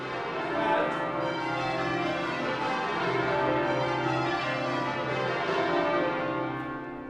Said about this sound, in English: can he pinpoint bell number 4 ringing too slowly?